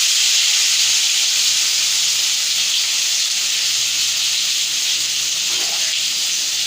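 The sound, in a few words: boiled potatoes sizzling in oil in a wok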